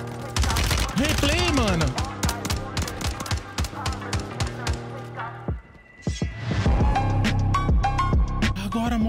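Rapid gunfire from a new weapon in a video game, loud bursts of automatic shots with a brief lull midway, while someone talks excitedly over the shooting.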